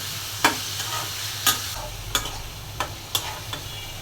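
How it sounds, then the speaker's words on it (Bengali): Small shrimp frying in a pan, stirred at intervals: a steady background sizzle broken by sharp scraping strokes of the spatula roughly once a second, close and clear, with no voices. "চিংড়ি মাছটা ভেজে দেব, ভেজে লাল হয়ে গেলে আমি মশলাটা দিব।"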